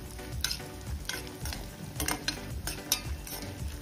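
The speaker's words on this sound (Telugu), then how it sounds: "ఇలా మనం మరో కడాయిలో కొద్దిగా నెయ్యి తీసుకొని డ్రై ఫ్రూట్స్ని మనం వేయించి పక్కన పెట్టుకోవాలి." Dry fruits, cardamom and raisins frying in a little ghee in a kadai make a soft, close sizzle, broken by a few light scraping stir strokes and small clicks, with no talking.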